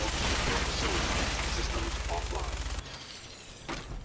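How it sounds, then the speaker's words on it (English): Rapid automatic gunfire in a firefight in a modded Fallout 4 game, a loud dense stream of shots that stops abruptly, leaving a softer rumble and one final burst. "So the plan is we'll both just stand here and shoot each other?"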